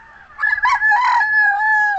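A rooster crows once, a long drawn-out call that rises and holds steady before trailing off, close and loud with no talking.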